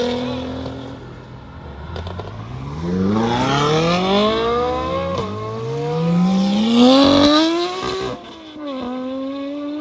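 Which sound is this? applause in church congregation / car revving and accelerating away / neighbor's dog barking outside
car revving and accelerating away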